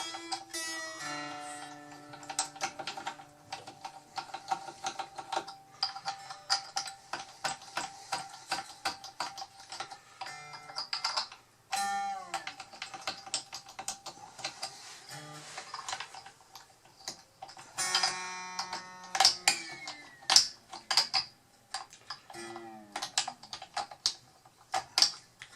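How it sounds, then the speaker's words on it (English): A hand-held string winder spins a guitar's tuning pegs to slacken and remove the old strings, giving close, rapid clicking and ticking in bursts, with occasional sliding, falling string tones as the tension drops; no voices. "So I'm going to use my little string winder to aid with this."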